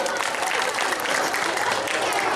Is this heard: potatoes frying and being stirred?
no